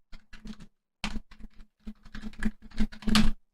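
Typing on a computer keyboard while coding, bursts of quick close-up key clicks separated by brief pauses, ending in a denser flurry of strokes.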